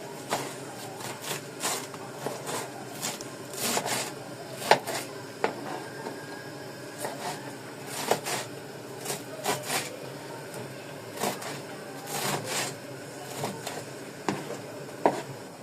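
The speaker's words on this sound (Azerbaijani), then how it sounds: "Doğrayıram indi." A knife chops parsley on a board in uneven bursts of quick taps, with short pauses between runs and some scraping.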